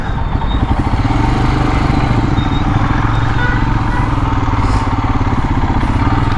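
A motorcycle loaded up for a long ride with Ladakh carriers runs steadily and loud nearby, its engine a continuous throbbing drone with a low rhythmic pulse that holds through the whole stretch.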